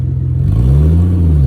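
A Willys Jeep engine on NDT and AG tires revs hard, its low droning note rising steadily in pitch as the throttle opens, loud and close throughout with no talking.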